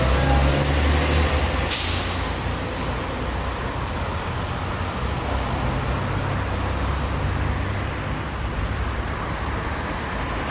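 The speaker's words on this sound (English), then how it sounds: "Number 957 just pulling away from the bus stop" A 1998 Edinburgh city bus, fleet number 957, pulls away from a stop with a sharp air-brake hiss, then a steady loud diesel drone over busy street traffic.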